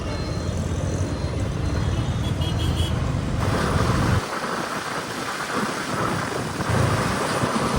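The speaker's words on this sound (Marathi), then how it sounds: "हा पावसाने बेरमारी केली आज" Heavy rain pours down in a dense, continuous roar, with a low rumble that thins out partway through, leaving a steady hiss of falling water.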